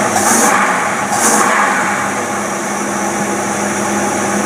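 An engine running on a Rochester two-barrel carburetor, a loud steady close drone of idling with a constant hum and slight revving swells early on, no talk over it.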